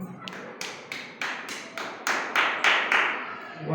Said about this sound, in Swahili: Tupe makofi mazuri.